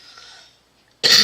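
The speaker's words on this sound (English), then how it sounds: "Excuse the cough" A single sharp cough bursts out loudly and close at the end, after a short stretch of quiet room noise, from a person making a Christmas candy shop card.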